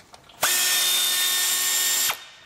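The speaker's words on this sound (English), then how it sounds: "I'm going to use an 8mm socket and an air ratchet that makes it go much faster" An air ratchet fitted with an 8mm socket runs in one continuous high whirring burst of about a second and a half, loud and close, loosening a hose clamp on a car cooling system with no talk.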